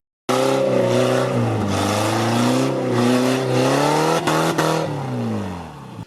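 A burnout car's engine starts up loud and close, revving hard under a servo-driven accelerator cable, with rising and falling pitch in repeated surges before settling lower.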